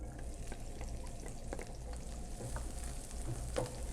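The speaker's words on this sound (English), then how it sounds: "Once our olive oil is nice and hot, we're going to go ahead and add in the onions" Onions sizzling and frying in hot olive oil in a pan, a steady close crackle with occasional light stirring scrapes, and no speech.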